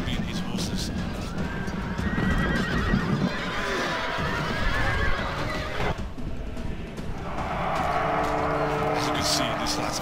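Horses whinnying and neighing repeatedly amid the hoofbeats and clamor of a Rome: Total War multiplayer cavalry battle, fairly loud and continuous, with someone talking over it.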